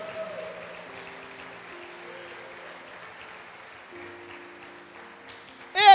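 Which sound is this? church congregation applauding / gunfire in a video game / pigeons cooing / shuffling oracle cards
church congregation applauding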